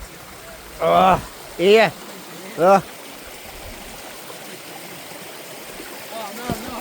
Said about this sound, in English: I believe we're crossing there in this what can only be described as a stream.